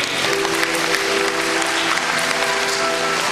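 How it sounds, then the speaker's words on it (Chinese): A congregation at an Amis church thanksgiving service claps steadily and loudly for a few seconds, a dense continuous wash of applause with no talking over it. "我们为这些伟大的师母掌声鼓励"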